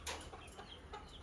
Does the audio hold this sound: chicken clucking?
yes